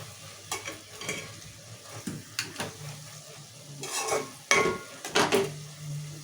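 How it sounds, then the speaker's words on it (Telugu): Tomato and fenugreek leaf curry softening in hot oil, with a low steady sizzle under scattered spoon scrapes and stirring clinks against the pan, a few louder knocks near the end. "ఇక టమాటా మెంతం కూర మంచిగా నూనెలో మగ్గింది"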